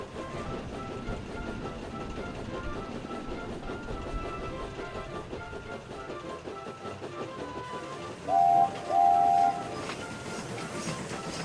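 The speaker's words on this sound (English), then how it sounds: "the train finally moved again" A moving train rumbles along with steady rolling and clattering, moderately loud and continuous, and two short horn-like toots sound near the end.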